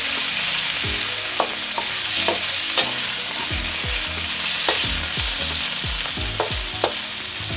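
Beef searing in a hot pan with seasoning for a Chinese wat dtan (egg gravy) fried noodle dish, a steady loud sizzle with repeated scraping stirs of the spatula, close up and without talk.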